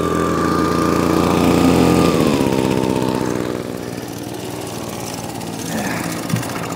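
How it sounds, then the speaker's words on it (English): A small gas engine on a Royal dry washer used for gold prospecting drops from a higher whine to a low, steady idle, putting out an even mechanical putter with a faint clank near the end. "just idle your motor all the way down"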